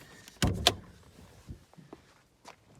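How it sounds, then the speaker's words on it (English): Two sharp clunks of a hood release on a Mercedes-Benz R170 SLK roadster, close together near the start, followed by a few soft, faint knocks and rattles in a quiet setting. "I'll go ahead and pop the hood"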